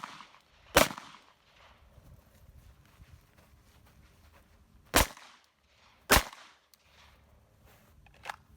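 A Glock 45 pistol fires at steel targets: four sharp, loud shots spaced irregularly, each snapping out with a quick ringing tail, with quiet outdoor background between them.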